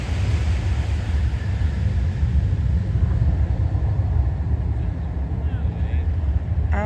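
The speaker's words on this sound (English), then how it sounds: "we can actually hear the jet's engine." Jet engine of an aircraft landing at night at Sydney airport, heard from a beach across the bay as a steady, distant low rumble that fills the whole stretch, with faint voices and ambient noise on top.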